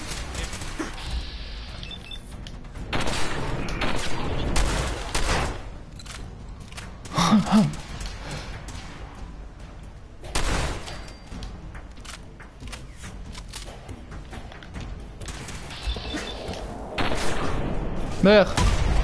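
Gunfire in the Fallout 4 video game, sharp shots and bursts scattered through a busy combat scene, with someone talking over much of it.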